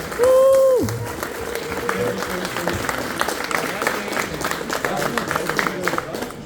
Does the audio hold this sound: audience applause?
yes